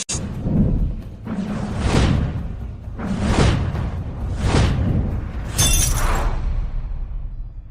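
An antique ceramic vase shatters in a series of loud crashing impacts, with repeated bursts of breaking and a final bright high splintering burst, no talk over it.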